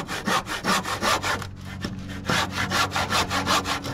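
A hand saw cutting through wood in a workshop, a rapid back-and-forth rasp of strokes with a brief pause midway, loud and close, with no voices.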